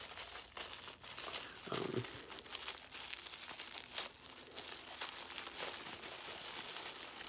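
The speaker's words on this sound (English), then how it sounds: "everything is individually wrapped up in cellophane" Cellophane wrapping crinkles as it is unwrapped from a vintage Kenner Strawberry Shortcake toy, close, busy crackling with sharp crisp pops and rustles that continue throughout.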